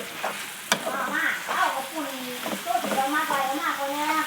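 Pork sizzles and crackles in a hot pan while a utensil scrapes and stir-fries it, with someone talking in Thai over the frying.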